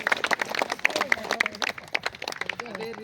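An audience claps during a religious discourse gathering, a rapid scattered patter of many hands at close range, with voices talking over it.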